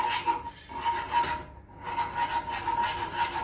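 A whisk stirs cheese sauce for cauliflower cheese in a pan, giving a steady rhythmic scraping and rubbing close by, with a short pause midway before the strokes resume, no talking.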